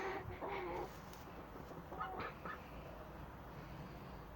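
A broody hen clucking in a few faint, short calls early on, then quiet background noise.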